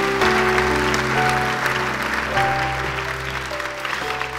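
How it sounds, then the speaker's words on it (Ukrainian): Congregation at a church service claps loudly and steadily throughout, a dense sustained wave of applause with organ or keyboard tones ringing underneath. "І давайте віддамо гучними оплесками всю славу нашому Господу."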